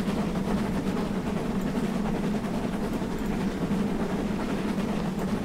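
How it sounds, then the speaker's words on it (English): Train rumbling along the line in Train Simulator 2020 on the Stainmore, Shap and Eden Valley route, a steady, continuous low engine drone and rolling hum that holds an even loudness throughout. "There's actually a train coming the other way as well."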